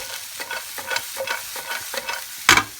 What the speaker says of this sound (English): So I'm cooking it for a couple of minutes and stirring it in between.